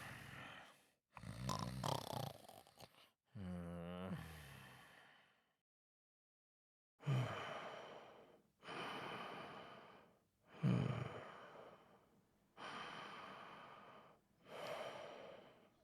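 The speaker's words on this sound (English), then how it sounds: "keep breathing into the mic" Heavy breathing straight into a microphone, a string of loud, close inhales and exhales in slow, regular bursts with silent gaps between them, plus a short rough snort-like sound near the start.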